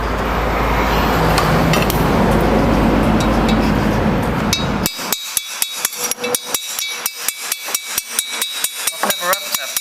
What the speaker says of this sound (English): I've never had to hammer a valve out before.